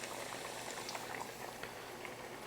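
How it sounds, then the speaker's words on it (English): Lightly breaded chicken breasts shallow frying in hot oil give a loud, steady, dense sizzle and crackle close up, with no voices over it. "We're going in with our lightly breaded chicken breast."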